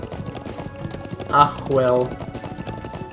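Horse hooves clip-clop while riding in the Trails of Cold Steel 2 video game, a steady rhythmic trot under a game music bed, with a brief voice and a short louder burst partway through.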